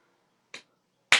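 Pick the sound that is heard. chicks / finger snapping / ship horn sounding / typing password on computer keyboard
finger snapping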